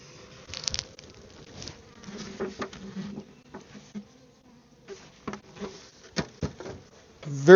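Honeybees from a caught swarm buzz in bursts while being moved into a new hive, the faint, uneven drone punctuated by soft taps and knocks from nearby handling.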